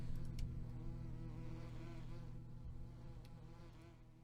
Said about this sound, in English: the bees start flying out